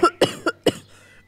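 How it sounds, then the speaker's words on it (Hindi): A cartoon pigeon gives four quick, sharp coughs in a row, close and fairly loud, with a short breathy trail at the end. "खांसने लगता है।"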